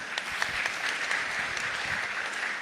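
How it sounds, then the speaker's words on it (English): Audience applause at a business panel discussion, dense continuous clapping from a crowd, steady and moderately loud throughout. "Please give him a round of applause."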